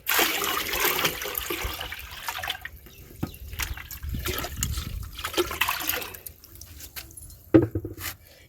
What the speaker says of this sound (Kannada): ಈಗ ಈ ನೀರನ್ನು ನಾನು 10 ಲೀಟರ್ನಷ್ಟು ಬಿಳಿಯ ನೀರಿಗೆ ನಾನು ಈ ನೀರನ್ನು ಮಿಕ್ಸ್ ಮಾಡ್ತಾ ಇದ್ದೇನೆ